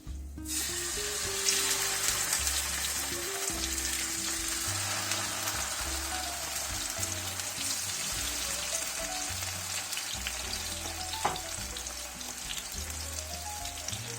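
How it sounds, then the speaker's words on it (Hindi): Salmon fish pieces fry in hot oil over a low flame, giving a steady, dense sizzle that stays loud and close for the whole stretch, with faint low clatter beneath and no talking. "अब हम फिश को इसमें डालते हैं और फ्राई करते हैं।"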